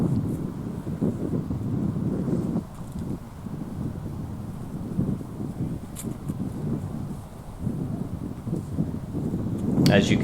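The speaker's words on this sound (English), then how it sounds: "As you can hear, the wind is picking up, and it will not subside for the rest of round one" Wind gusts steadily across an outdoor disc golf course, a broad low rumble and microphone buffeting that swells and eases, with a few faint knocks.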